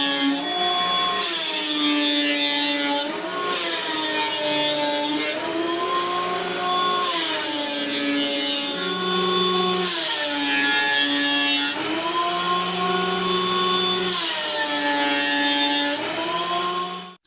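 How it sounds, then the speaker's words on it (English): A planer mills a thick roasted poplar board, its loud steady whine rising and dipping in repeated passes of a few seconds each, running alone without talk until it cuts off at the end. "It's kind of thick right now, so we'll get this planed up."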